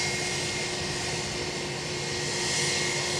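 A Jet2 airliner inbound from Palma on final approach at Edinburgh Airport gives a steady, broad engine roar and whine that holds evenly throughout, with no voices.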